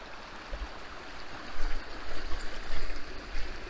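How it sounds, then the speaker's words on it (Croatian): Several mountain streams join into one in a pine forest on Žumberak mountain, making a steady broadband rush of flowing water with a low rumble that grows louder in the second half. "Tu su razni potoci koji se slijevaju."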